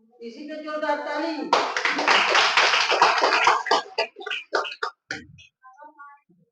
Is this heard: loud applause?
yes